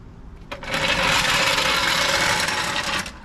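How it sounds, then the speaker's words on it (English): An impact gun tightens lug nuts on a 2007-2013 Silverado 1500 wheel, a loud, close whirring hammer burst lasting about two and a half seconds before cutting off. "we're gonna go until my impact gun here clicks"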